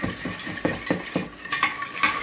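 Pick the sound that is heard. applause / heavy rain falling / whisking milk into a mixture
whisking milk into a mixture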